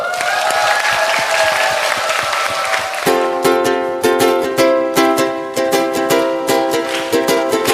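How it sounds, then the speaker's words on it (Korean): Steady applause from an audience at a farm and food talk concert, with sharp rhythmic claps joining as music with bright sustained tones starts partway through. "여러분 박수가 필요합니다."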